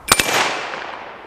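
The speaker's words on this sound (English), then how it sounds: "Let's shoot our spinner." A suppressed Ruger American Ranch rifle in 300 Blackout fires at a steel spinner target outdoors, a single sharp nearby shot with a quick metallic follow-up hit, then a long fading ring and echo.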